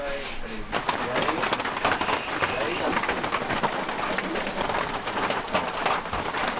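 Steady rain pours down in a heavy downpour around a mountain hut in Colombia's coffee region, a dense continuous hiss with scattered drips and patter; no distinct thunder stands out.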